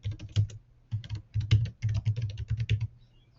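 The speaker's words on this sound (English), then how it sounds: "If you type in the address, so I'll put in Spear Street." Fingers tap out an address on a computer keyboard in quick, close clicks, grouped into short bursts with brief pauses between words.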